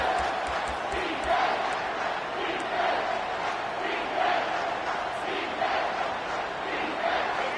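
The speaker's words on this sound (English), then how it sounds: "The crowd elevating its energy, willing this defense to get a stop on this big 3rd down." Football stadium crowd on a big third down, a steady loud roar of many voices rising and swelling continuously throughout, with rhythmic chant-like pulses and no distinct speech.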